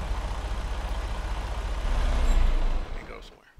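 A Freightliner truck in American Truck Simulator rumbles loudly and steadily as it comes to a stop, the engine swelling briefly before a short hiss and a fall-off in sound at the end.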